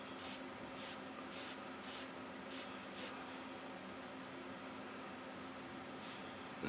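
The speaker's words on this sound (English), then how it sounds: "Just a quick spray over." Spray paint applied in short bursts from about a foot and a half away while painting a dark skin tone on a figure, with six quick hissing sprays in a row, a pause, then another burst, all faint.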